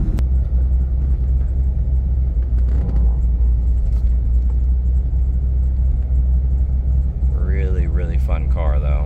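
A modified 2004 Chevrolet Corvette Z06 hardtop fitted with a roll cage is driven, giving a steady, deep engine rumble throughout, with a few spoken words near the end.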